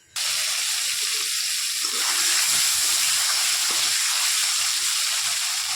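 An egg coated in salt and turmeric fries in hot oil, a loud, steady hiss that starts abruptly and keeps going without pause, no talking over it.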